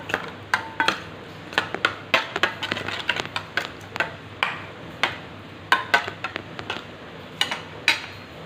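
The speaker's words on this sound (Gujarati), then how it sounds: "આ મિશ્રણને સારી રીતે મિક્સ કરી લેવાનું છે" Spoon clicking and tapping against a bowl while spiced yogurt raita is stirred together, a quick irregular run of sharp light knocks over a soft wet background, close and moderately quiet, with no voices.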